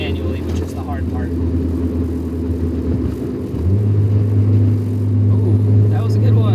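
A manual-swapped third-generation Honda Prelude engine hums steadily, then its low drone drops and rises into a louder, deeper tone as the driver shifts. The sound is heard from inside the car, with speech over it.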